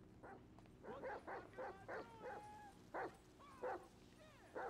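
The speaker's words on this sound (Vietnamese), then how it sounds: "Đây có chó ngoài này nữa bạn." Dog barking in the video game GTA 5 at a US federal prison setting: a series of short yips and barks with whimpering, repeated at moderate distance over faint background.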